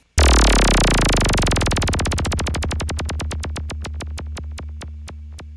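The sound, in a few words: synthesized effect sweep made with the Meld synthesizer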